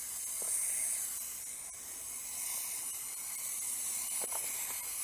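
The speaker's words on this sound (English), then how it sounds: "and then just start spraying" A pump sprayer applies grub control liquid across a lawn, giving a steady, continuous hiss at moderate level with no talking.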